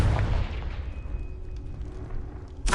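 A Confringo blasting spell goes off in Hogwarts Legacy, a loud booming burst at the start that rumbles and slowly fades, followed by a short sharp crack near the end.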